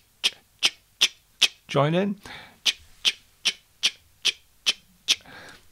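A voice imitates a closed hi-hat cymbal with a steady train of short, crisp "ts" clicks, about a dozen evenly spaced, interrupted once by a brief spoken phrase.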